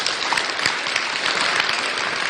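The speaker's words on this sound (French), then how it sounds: "Là, on peut l'applaudir." An audience applauds an interviewee in a steady, dense burst of clapping that fills the whole moment, with no voices over it.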